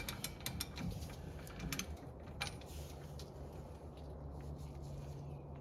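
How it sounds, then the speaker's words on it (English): A wheel hub on a 1962 Pontiac Grand Prix being spun by hand during a disc brake conversion, giving quiet ratcheting clicks and metallic ticks over a low steady hum. "We're gonna spin this around just so we can really seat the bearings."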